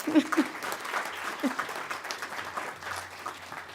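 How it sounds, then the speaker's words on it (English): An audience applauds the introduction of a municipal court judge, a moderate scattered clapping in a hall with a few voices mixed in near the start. "You can clap, go ahead."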